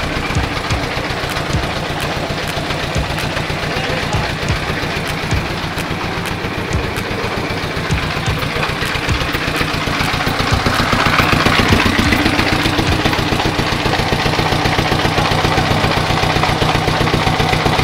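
A rice mill engine drones steadily and loudly at mid pitch throughout, with a constant mechanical chugging rhythm that swells slightly near the end.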